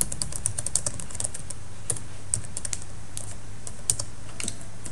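A computer keyboard clatters with quick, light keystrokes while C code is typed, irregular runs of crisp clicks heard close up over a faint low hum.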